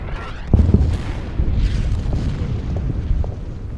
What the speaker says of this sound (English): this other artillery will hit the KV-2